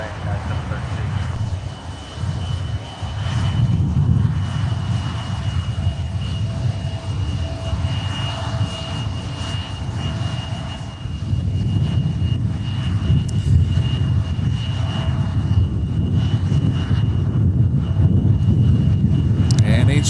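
A United airliner approaches to land on runway 30 left at Minneapolis–Saint Paul airport, its engines giving a steady, loud roar throughout, with voices talking over it.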